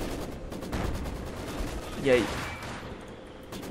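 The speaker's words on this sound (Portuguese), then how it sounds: "Tá trocando tiro ali, tá dando certo." Gunfire rattles in the Company of Heroes 2 video game. Scattered bursts and shots crackle over a battle din, with one louder blast near the middle, and a voice speaks briefly over it.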